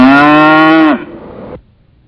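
A cow lets out one loud, long moo close by that breaks off abruptly into a fading rasp before silence.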